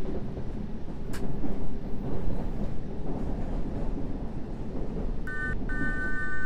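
A London Underground train on the Circle Line in London Underground Simulator rumbles with a deep, continuous roar, and a short electronic beeping tone sounds near the end.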